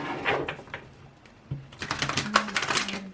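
Tarot cards shuffled by hand, giving a close series of quick riffling, tapping clicks, sparse at first, then denser and faster in the second half, with no speech.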